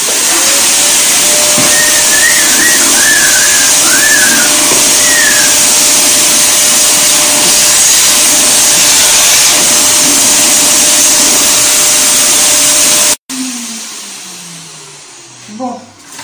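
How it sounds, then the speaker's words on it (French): Vacuum cleaner running loud and steady while cleaning up after a cat flap door is cut in a hollow interior door, roaring for about thirteen seconds before switching off abruptly, followed by quiet handling sounds. "Je vais passer un petit coup d'aspirateur."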